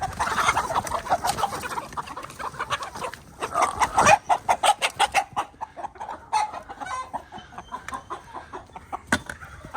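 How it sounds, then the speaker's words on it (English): Roosters being caught by hand cluck and squawk in agitated bursts, close and fairly loud, with the calls growing choppier and more frantic partway through. "So I have one highly suspected rooster right here and one definite rooster."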